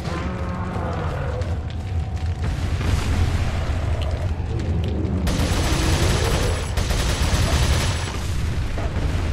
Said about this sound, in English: I am the one shooting him!